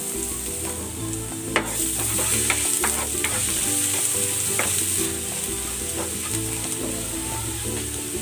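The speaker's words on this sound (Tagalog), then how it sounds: "Nagigisa na ako ng bawang." Garlic sautés in a hot pan as a Filipino chicken dish gets started, a continuous loud sizzle with scattered clicks and scrapes of stirring over a low background hum.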